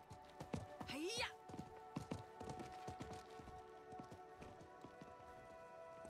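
A merchant's horse in the video game Diablo IV whinnies, then gallops off with a run of hollow hoof clip-clops that grow fainter as it moves away, over a steady ambient game soundtrack.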